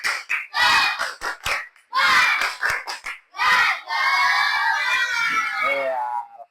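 Schoolchildren in an Indonesian classroom lesson perform a rhythmic clapping cheer, loud bursts of claps and shouted chanting in quick groups, ending in a sustained group shout.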